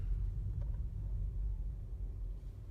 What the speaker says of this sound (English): so you can hear the sounds the car makes